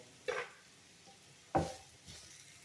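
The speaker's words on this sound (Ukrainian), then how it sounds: "помішаю грибочки. Так, ще раз поперемішаю." Two short bursts of scraping and sizzling from a pan, a spatula stirring frying mushrooms, with a softer third scrape near the end.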